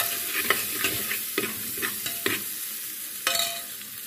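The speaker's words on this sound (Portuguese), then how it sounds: "a calabresa, ó, já tá bem fritinha." Calabresa sausage fries with colorau as it is stirred, giving a steady close sizzle broken by repeated scraping strokes of the utensil in the pan.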